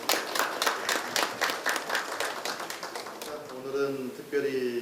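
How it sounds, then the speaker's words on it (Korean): An audience at a Seoul city council debate forum claps steadily in a dense burst of applause that fades out, then a voice begins speaking over a public-address system. "큰 박수로 모시도록 하겠습니다."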